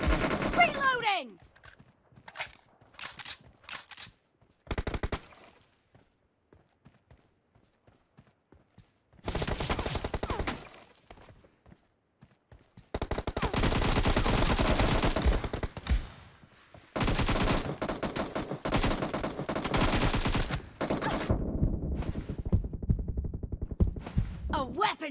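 PUBG Mobile gunfire comes as sharp single shots at first, then long loud automatic bursts separated by short silences, with game voice callouts mixed in.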